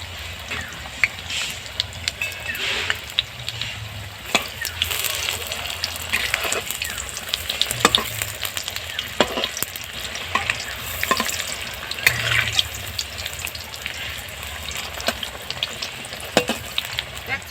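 Oil sizzles and crackles steadily as battered raw banana fritters fry, with occasional clinks and stirring sounds and a few brief louder pops.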